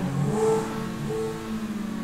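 A Lamborghini Aventador in GTA V on PC revs its engine in short swelling bursts, a close, mid-pitched growl rising and easing over about two seconds.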